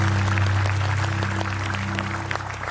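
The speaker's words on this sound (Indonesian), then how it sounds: "Tapi luar biasa tepuk tangan buat Fahri." Studio audience applauding on a television talk show in Indonesia, a steady broadband clapping wash under a low hum, sustained at moderate loudness throughout.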